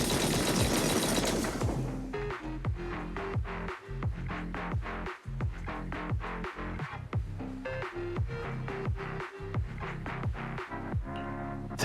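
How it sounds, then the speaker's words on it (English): Heavy cannon fire in Zenless Zone Zero opens with a loud, dense blast, then keeps pounding in a fast, uneven series of sharp booming shots, close and loud with no voices. "That was the sound of a heavy cannon?"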